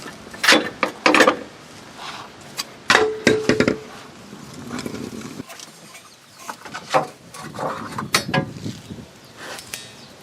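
A ratchet works loose a 15 mm shock absorber bolt on a 2005–09 Ford Mustang, giving bursts of close, sharp clicking and metallic clanks separated by short pauses.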